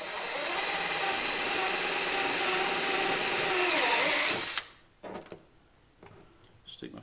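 A power drill bores a clean hole into a kayak, a steady close whirring for about four and a half seconds that then stops, followed by a few faint handling knocks.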